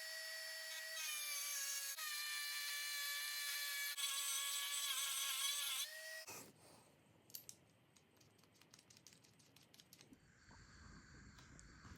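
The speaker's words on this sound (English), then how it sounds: "I'm gonna trim that piece of the cover off." A plastic engine sensor cover on a Camaro SS L8T 6.6 engine swap is trimmed with a high-pitched whining power tool for several seconds, then gives way to scraping, clicking and rubbing as the piece is worked off.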